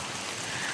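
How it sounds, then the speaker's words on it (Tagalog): Steady rain falls on a pineapple farm as an even, dense hiss with no pauses. No voices are heard over it. "Antayin muna natin na tumila ang ulan"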